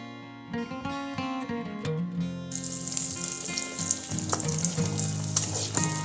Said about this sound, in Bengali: দেখো গরম তেলে সুন্দর পিঠেগুলো ভাজা হয়ে যাচ্ছে